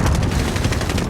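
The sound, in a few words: gunshots in Call of Duty Warzone video game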